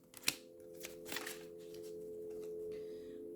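Tarot cards are handled and pulled from a deck, giving a few soft, crisp flicks and riffles over a quiet hum.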